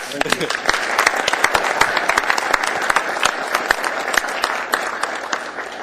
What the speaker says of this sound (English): All right, now we can all applaud.